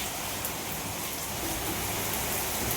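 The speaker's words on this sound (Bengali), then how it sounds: "অনেক অনেক পরিমাণে বৃষ্টি হচ্ছে" Heavy rain pours down continuously, a dense, loud, even hiss of falling water with no pauses and no voices.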